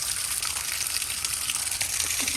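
Water gushes and splashes continuously as it drains from an RV's aluminum water heater tank, a steady hissing flow with no pauses.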